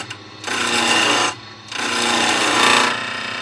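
A yellow pine pommel is turned on a spinning lathe, and two long, loud bursts of tool-on-wood rubbing and scraping are separated by a brief lull.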